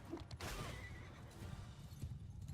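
Horses whinny and neigh amid the clatter of hooves on a battlefield in Mount & Blade II: Bannerlord, a short, faint burst of animal cries and clip-clop.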